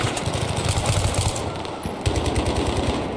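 Burst gunfire in the first-person shooter Battlefield 3, rapid loud rattling volleys repeating in quick bursts over a constant mechanical din, close and dense throughout.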